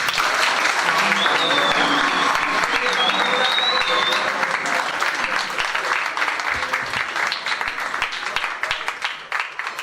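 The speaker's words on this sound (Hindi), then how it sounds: "जोरदार तालियां, जोरदार तालियां।" Audience at a training event in Mumbai breaks into loud, dense applause, a sustained wash of clapping that stays strong and gradually thins slightly toward the end, with some crowd voices mixed in.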